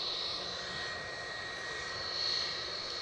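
A JetBlue jet airliner passing near Edinburgh airport, heard as a faint, distant, steady engine whine that swells slightly toward the end, with no talking.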